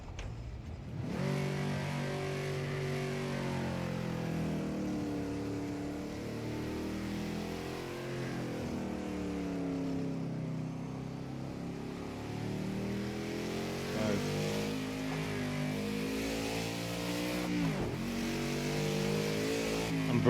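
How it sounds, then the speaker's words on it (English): Race car engine in Project Cars 2 roaring continuously under braking and downshifting, pitch wavering and sweeping down then surging with throttle, a sharp rev blip near the end, loud and close with no voices. "braking, clutch goes down into second. I'm hitting the fucking throttle"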